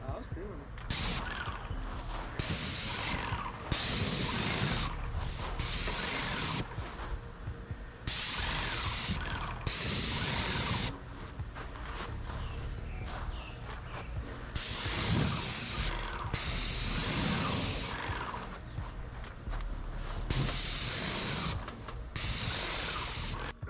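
Bursts of loud hissing from an airless paint sprayer start and stop repeatedly, each lasting a second or two, with a person talking underneath and between them.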